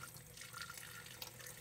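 Tap water flows over the valve of an MSA G1 gas mask during rinsing, giving a faint, continuous splashing trickle with small drips, heard alone without speech.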